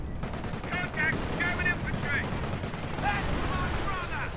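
Machine gun team firing in a World War II style multiplayer shooter game, a dense continuous rattle of automatic fire and battle noise, with a commentator talking over it.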